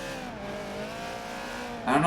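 A Subaru BRZ race car in a sim racing game at Suzuka, its engine holding a steady, strained drone that sounds slightly flat and bogged, then a sudden louder burst of noise at the very end.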